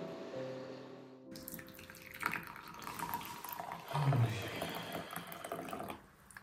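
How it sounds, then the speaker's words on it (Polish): Water pours from a tap into a vessel with a steady splashing stream, preceded by a brief tonal hum, recorded close up indoors. "I teraz każdy dolewał sobie wody, ile potrzebował."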